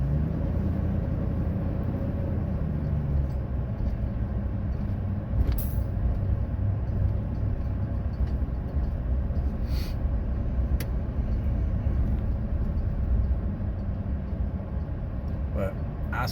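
Steady low rumble of a car driving on a road behind a truck, continuous road and engine noise filling the whole stretch with a few faint brief transients.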